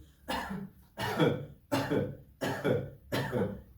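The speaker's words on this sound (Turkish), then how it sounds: "Birincisi öksürelim mesela" Five strong deliberate coughs during a laughter yoga session, in a steady rhythm, each a short harsh burst about three-quarters of a second apart, close and loud with no talking.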